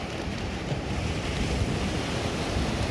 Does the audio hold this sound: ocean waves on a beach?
yes